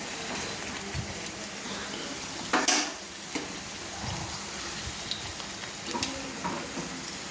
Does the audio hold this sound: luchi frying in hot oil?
yes